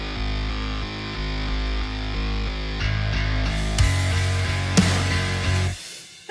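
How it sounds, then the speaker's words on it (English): A thick, distorted synth bass called Synth Magic Maker holds low sustained notes that shift pitch every second or so, loud and dense within a rock/metal production, then cuts out abruptly near the end. "We have what I call Synth Magic Maker, which sounds like this."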